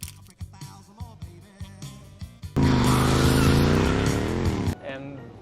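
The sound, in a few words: motorcycle burnout from Terminator 2 film scene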